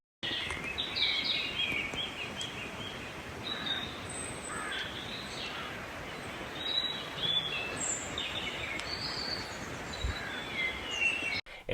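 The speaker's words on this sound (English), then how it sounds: "Inserting some bird song there." Birds call and sing at a distance in mountains in northern Spain, between Ribadesella and Arenas de Cabrales, over a steady outdoor wind-like hum, with scattered chirps and a few harsher caws.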